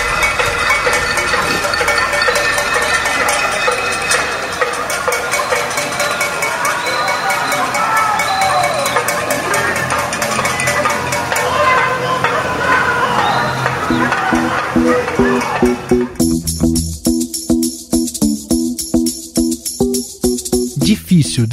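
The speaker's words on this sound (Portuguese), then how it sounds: "brasileiros de todo o território foram às janelas bater panela em protesto ao governo Bolsonaro." Brazilians bang pots and pans from their windows in a nationwide protest against the Bolsonaro government, a loud, dense, continuous clatter of metallic strikes echoing between buildings, with crowd shouting throughout and sharper rhythmic clanging toward the end.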